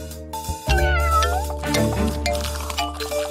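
A cartoon cat meows loudly in a drawn-out, wavering cry over busy background music and effects. There is no speech.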